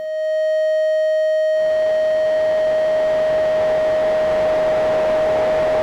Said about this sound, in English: let's take the white noise into the linear FM on the oscillator